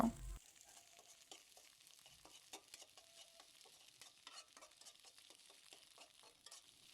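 Eggs seasoned with a spoonful of salt fry in a pan for a radish-greens dish, a steady crackling sizzle with small scraping stirs, close and fairly quiet, no voices.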